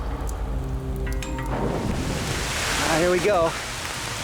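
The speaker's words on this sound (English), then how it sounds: "It is the jungle, so here comes the rain." Rain falls in the New Guinea jungle at the start of the wet season as a continuous hiss, while someone speaks briefly over it.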